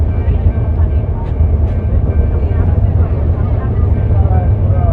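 A train in Bihar rumbles along steadily as it picks up speed, with a deep continuous roar and rattling from the carriages, loud and close throughout.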